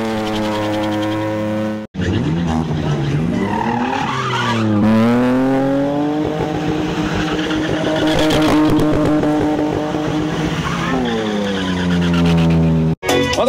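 A BMW drifts sideways at a drift event in Jedlińsk, its engine revving hard under long, loud tire squeals that rise and fall through several slides, close by and continuous.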